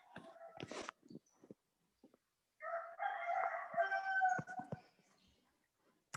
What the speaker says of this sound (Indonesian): Ada ayam berkokok siang-siang.